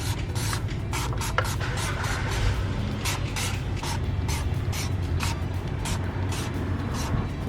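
Brisk scrubbing of car wheels with a brush and Dawn Powerwash, repeated rough strokes in quick rhythmic bursts, close and steady throughout.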